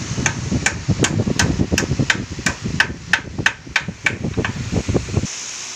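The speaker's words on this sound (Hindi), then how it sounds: "पुरानी वाली रेसर लगा कर ठोक देना है" A motorcycle handlebar end weight is driven into place with a hammer: a rapid, even series of about two dozen sharp metallic blows, close and loud, ending abruptly.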